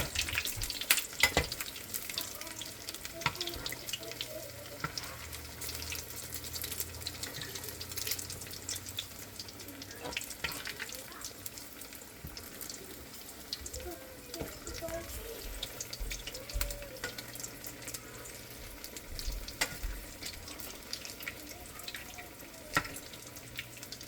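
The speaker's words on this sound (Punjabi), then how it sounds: "ਤਿੰਨ ਤਿੰਨ ਕਰਕੇ ਹੀ ਫਰਾਈ ਕਰਾਂਗੇ" Bread rolls fry in oil in a pan over a low gas flame, three at a time, giving a soft continuous sizzle with intermittent clinks and crackles, quiet and close.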